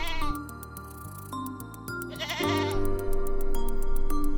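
Sheep and goats being herded out to graze bleat several times, with loud, close, wavering calls over a steady background of music and ticking tones.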